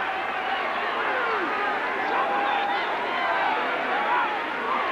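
A packed stadium crowd at a 1984 college football game, Michigan at Iowa, roars in a steady, broad wash of massed voices that holds at an even loudness throughout.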